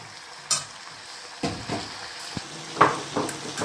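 A spiced curry is stirred and fried in a pan, with a few separate scraping strokes and faint sizzling in a quiet room.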